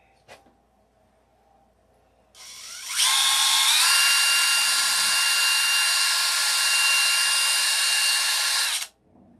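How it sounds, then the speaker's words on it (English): A power drill whirs up after a quiet start, running at a steady high-pitched whine for several seconds before stopping abruptly. "now I need the drill"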